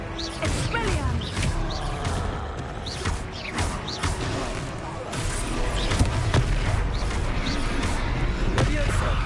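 The Expelliarmus disarming spell goes off during a Hogwarts Legacy battle, with bursts, crackles and crash-like impacts layered over dense game noise and character voices.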